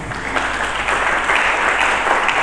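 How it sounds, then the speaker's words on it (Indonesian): A church congregation applauds during a sermon, a steady, full roll of many hands clapping together that holds at an even level throughout. "Mari berikan tepuk tangan."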